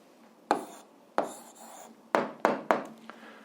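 Pen or marker strokes putting an answer down for an eighth-grade algebra exercise, five or six short scratchy marks at uneven intervals over a quiet room, close and fairly soft.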